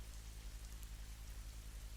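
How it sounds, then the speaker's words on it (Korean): Steady rain falls continuously around an old mansion at night, a soft, even wash of patter with a low rumbling bed and no voices. "빗소리에 취하듯."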